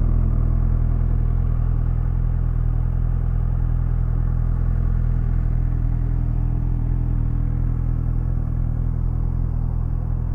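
A Kawasaki Ninja ZX-6R 636 motorcycle rides with a steady, loud, droning engine note and low rumble, holding an even pitch throughout.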